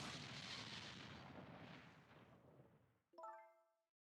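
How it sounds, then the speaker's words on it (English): A long, rumbling explosion aboard a submarine in the video game Ghost Trick: Phantom Detective roars and slowly fades, followed by a sharp metallic clang with a ringing tone that dies away; no talking. "What in the world? An explosion?"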